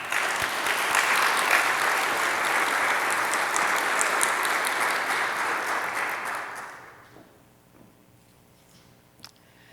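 An audience at a Baylor King James Bible conference applauds to welcome a speaker, a dense, even wash of clapping for about seven seconds that then fades out, leaving near silence with a faint knock.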